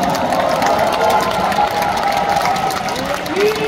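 A crowd applauds and cheers for fellow candidates at a party nomination acceptance speech, broad continuous clapping with a voice or tonal sound running over it near the end.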